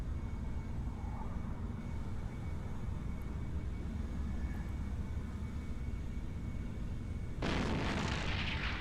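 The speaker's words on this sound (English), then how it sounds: "Are they shooting missiles at me?" In EVE Online, a player's ship comes under missile fire: a steady low engine-like hum runs for several seconds, then a sudden, loud roaring burst of impacts breaks in near the end and continues.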